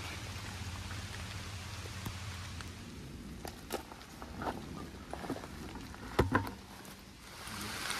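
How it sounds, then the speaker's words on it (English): Hard rain falls on an overland camping setup in a national forest, a steady hiss with scattered louder drops and knocks spattering on nearby surfaces, fairly close. "It's raining hard."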